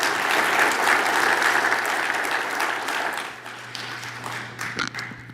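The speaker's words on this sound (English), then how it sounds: "Round of applause" Audience at the Heartland Summit 2024 applauding, steady dense clapping from a large crowd that gradually thins toward the end, with a low steady hum underneath.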